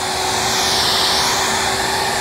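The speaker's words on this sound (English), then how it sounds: "So just get yourself a regular blow dryer that you have from the house and go ahead and just flash this off nice and easy" An ordinary household hair blow dryer flashing off a coat of water-based primer, a steady close airy whoosh with a constant motor whine, running alone without pause.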